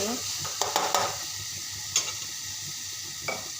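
A spoon scrapes and stirs capsicum sabzi in a pan with a soft sizzle beneath, a few distinct clinks against the metal standing out over the steady frying hiss.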